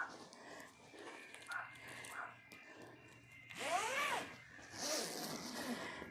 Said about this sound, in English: I need to add more zippers.